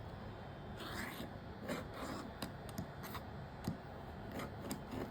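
Fabric for a flying geese quilt block being cut, a faint close rubbing and crisp snipping with irregular soft strokes over a quiet background hiss.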